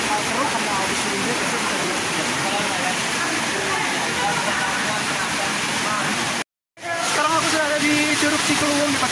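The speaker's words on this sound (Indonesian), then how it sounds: "ini di belakang aku curugnya sumpah keren banget ya" Waterfall Curug Cikuluwung in Bogor, running high and murky after rain, gives a steady broadband roar of falling water throughout, broken by one brief dropout near the end, with faint voices in the background.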